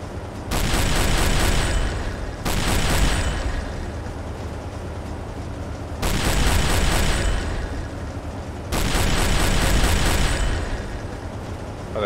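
Submarine deck gun firing with shell hits in Silent Hunter 3, a naval game: four heavy booming blasts a few seconds apart, each rolling into a long rumbling decay, loud and close.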